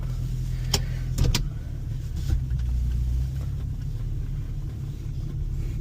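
An Infiniti FX37 (QX70) idles with a low, steady engine rumble as it is moved, with a few brief clicks near the start and no talking.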